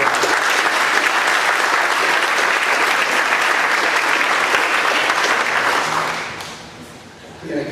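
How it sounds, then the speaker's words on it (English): A crowd at a college athletic hall of fame ceremony claps loudly and steadily for about six seconds, then the applause fades away, leaving a brief murmur at the end. "Let's give him a round of applause."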